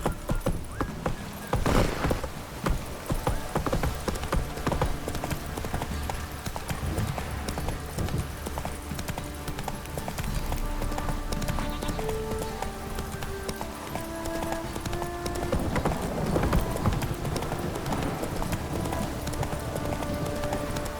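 The horse Roach in The Witcher 3: Wild Hunt, with hooves clip-clopping in a steady trotting rhythm across the whole stretch under a soft musical background.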